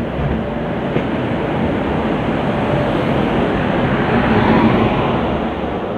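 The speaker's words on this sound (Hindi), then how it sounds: "तो अभी हम ज़राती से निकले हैं और हमारी ट्रेन अभी पूरा एक यू टर्न लेके वापस ऊपर उस साइड जाएगी।" A passenger train, the Samleswari Express on the Jeypore-Koraput-Rayagada line, rolls along the track with a loud, steady rumble and hiss heard from on board. No one speaks.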